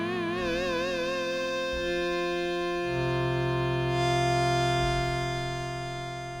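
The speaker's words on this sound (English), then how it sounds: "So that is your distortion." Cherry Audio Sines software synthesizer playing a sustained, harmonically rich tone through its distortion effect, starting with a wobbling vibrato and settling into steady buzzing held notes that grow slightly louder before easing off, with no voice.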